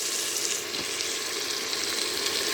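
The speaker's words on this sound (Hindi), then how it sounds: "ये देखें, ये भुन रहा है।" Onion, garlic and ginger fry in a pan for a chicken korma with a steady, close hiss and sizzle, alone and without talk.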